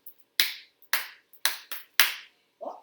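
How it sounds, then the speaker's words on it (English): Five sharp hand claps up close: two quick ones, a short pause, then three in a row, with a faint brief rustle after the last. "So I did 2 claps, then I paused, and then I did 3 claps together"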